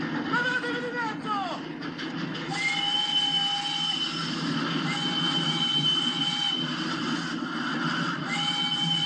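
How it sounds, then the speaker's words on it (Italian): A train rumbles past with a steady low roar, wheels squealing in high sustained tones, while voices talk over the noise. "Io penso a quel treno che ci abbiamo di dietro."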